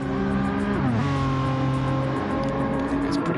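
A Renault Megane Trophy race car in Gran Turismo 7 on the Trial Mountain circuit, engine droning loud and steady with pitch sliding down on a gear change and then climbing again, continuous and close with no talk.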